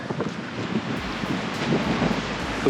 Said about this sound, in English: Water way too big. It's windy.